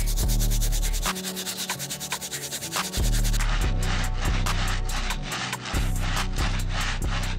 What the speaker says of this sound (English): Now let's move on to the soles using the stiff bristle brush.